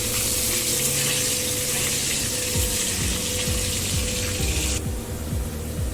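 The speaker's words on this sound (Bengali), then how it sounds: "একটু লাল লাল করে আলুগুলো ভেজে নেব।" Potatoes seasoned with salt and turmeric fry in hot oil, giving a steady dense sizzle with crackling pops, close and continuous, and the hiss eases slightly near the end.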